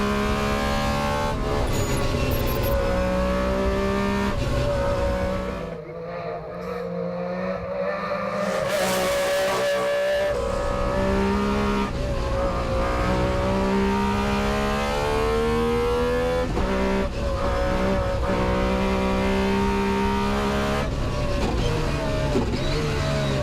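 Metro 6R4 Group B rally car driving flat out on a rally stage, its engine note loud and continuous throughout, revs rising and falling with gear changes and a brief lift mid-run before it pulls hard again.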